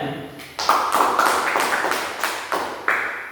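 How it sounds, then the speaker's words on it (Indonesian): A classroom group claps hands for a student, a broad spread of overlapping claps with regular surges, fairly close and steady throughout. "Kita tepuk tangan untuk sini ya"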